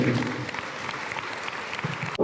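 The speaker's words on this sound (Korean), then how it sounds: "큰 박수 한 번 더 부탁드리겠습니다" An audience at a national amateur tennis tournament ceremony in Seosan claps in a steady burst of applause that stops abruptly near the end, with a few voices underneath.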